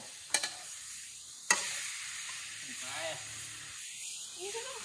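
Holy basil being stir-fried for pad kra pao in a pan, with two sharp clanks of a utensil followed by a steady sizzle and hiss, and faint voices in the background.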